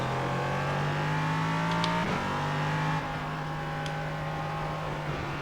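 An LMP3 prototype race car in iRacing revs its engine with a steady high drone that climbs in pitch, drops briefly at a gear change, then holds, loud and continuous with no talk.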